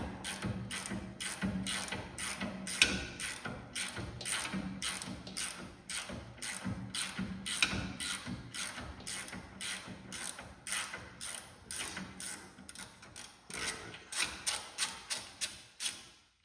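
A 1/2 inch ratchet with an 18 mm deep socket clicks steadily as it removes the lower ball joint nut on a 1998 Ford Crown Victoria, a close, continuous run of rapid pawl clicks ending in a few louder, slower strokes.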